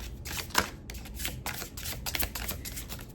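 A tarot card deck shuffled hand over hand, producing a rapid run of soft papery riffles and slaps in quick bursts, close and fairly quiet with no voices.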